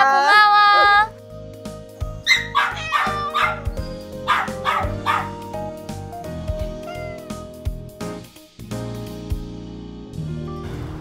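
Dogs at an animal shelter yip and bark in a quick series of short, sharp calls over a steady background of music, after an opening whine-like tone.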